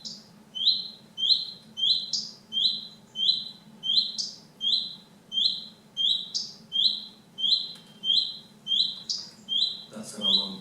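A recorded song from a red star bird on a farmland monitoring list repeats in regular short phrases, each a cluster of high, bright chirps and tweets, clear and steady for about ten seconds over a faint low hum.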